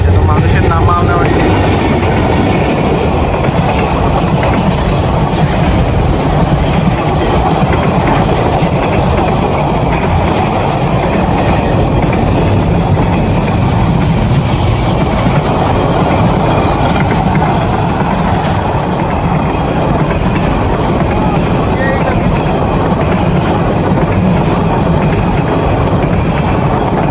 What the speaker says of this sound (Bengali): এই যে ট্রেন আসতেছে, দেখি এটা কি ট্রেন।